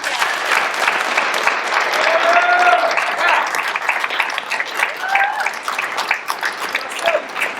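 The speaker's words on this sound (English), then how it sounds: "Let's have one more round of applause for this amazing cast." After a school production of Julius Caesar, the audience gives the cast a sustained round of applause, loud and continuous, with a few cheering voices rising above the clapping.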